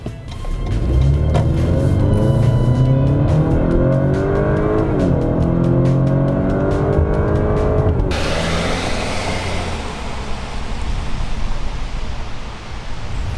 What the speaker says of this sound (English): let's accelerate and talk about this 2-liter